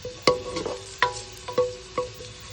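Unpeeled ginger sautés in a pan with a low sizzle, broken by four or five sharp scraping stirs of a utensil against the pan.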